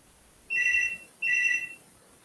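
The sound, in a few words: mobile phone ringtone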